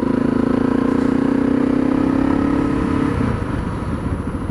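A Honda CRF250L dual sport motorcycle rides on a sunny winter day, its engine a loud, steady, close drone that eases slightly toward the end.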